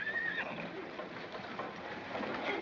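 A horse at a corral in a 1941 western film gives a short whinny at the start, faint and set back in an old, muffled soundtrack with some background bustle.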